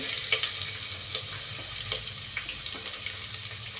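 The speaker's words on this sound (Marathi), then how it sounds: "कांदा मस्त तेल पडत आपल्याला परतून घ्यायचं आहे" Onion sautéing in hot oil with star anise, black pepper and cloves for chicken biryani, a steady close hiss of frying with soft crackles and a few light clicks, no voices.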